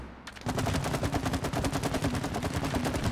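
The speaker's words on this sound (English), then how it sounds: "Or just shoot the bridge down." Rapid automatic gunfire in the video game It Takes Two, fired to bring a bridge down: a dense, loud burst of fast repeated shots that runs unbroken for a few seconds, with no talk.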